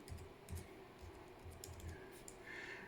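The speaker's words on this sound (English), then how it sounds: "You want to type in encoder." Computer keyboard keys tapped in short bursts, entering a command into a motor controller terminal, soft and close over a steady low hum.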